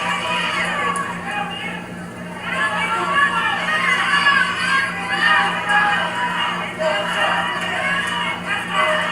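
A Mid South wrestling crowd cheers and calls out for Junkyard Dog and Mr. Olympia during a tag match against Ted Dibiase and Matt Borne, a steady roar of voices and shouts lasting throughout, mixed under a commentator talking.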